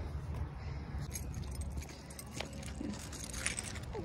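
Keys jangle in a steady, fairly faint rattle during outdoor dog leash training, running through the whole stretch over a constant background of traffic-like rumble, with no talking.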